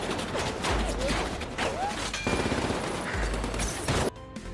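Shaw's men fire guns from inside a building in an action film, with bursts of gunfire and sharp cracks mixed with clatter and impacts over a busy, dense background.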